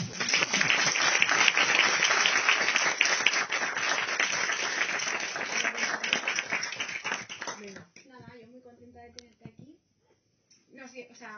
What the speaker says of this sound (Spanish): un aplauso enorme para ti